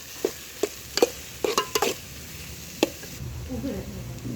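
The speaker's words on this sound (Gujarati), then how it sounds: "હવે નાખી દઈશું હળદર, પછી એને હલાવી લેવાનું" Turmeric being stirred into frying food in a pan, a series of sharp scraping clacks of a spoon against the pan under a low sizzle, then a softer frying hiss.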